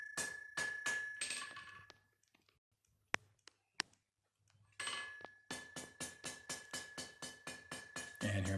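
A hammer taps the end of an 1863 Roby sword's tang to dress burrs: a quick run of sharp metallic taps, a pause with a couple of isolated knocks, then a longer steady series of evenly spaced taps, close and clear.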